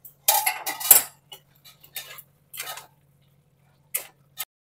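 A pot lid on a pan of cooking potato and pointed gourd curry is lifted, giving several sharp metallic clinks and taps in close, quiet surroundings.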